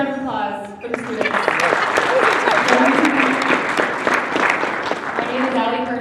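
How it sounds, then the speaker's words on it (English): An audience at a youth pitch competition gives a sustained round of applause for the student presenters, dense clapping filling the room for several seconds, with a speaker's voice at the start and end. "Another round of applause for the students."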